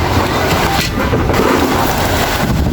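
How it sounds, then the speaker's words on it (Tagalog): Loud, continuous roar of strong typhoon wind with heavy rain during Typhoon Tino, a dense broadband rush that stays steady throughout with no pauses. "mas lumalakas pa yung hangin"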